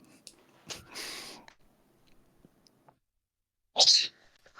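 A single sharp, close sneeze bursts out near the end, after a breathy intake and faint rustling during a tabletop role-playing game session at home.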